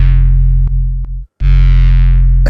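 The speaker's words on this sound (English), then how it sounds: "This is the multi-band compressor I used for that, and actually it helped to cut through the mix much more" A sustained, buzzy synth tone squeezed by multi-band compression, loud and dense, cutting out briefly twice with a short gap of silence before the bright tone returns.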